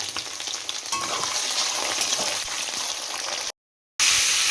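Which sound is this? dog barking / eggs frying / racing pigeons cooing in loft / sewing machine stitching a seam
eggs frying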